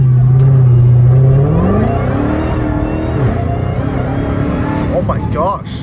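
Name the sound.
Dodge Hellcat Redeye car accelerating at night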